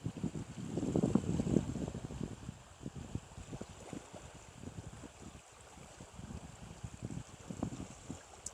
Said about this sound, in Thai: ต้นเหตุของน้ำวนก็สิมาจากนี่เนาะ พอน้ำมันไหลมานี่แว่านสิตีเข้ามาฝั่ง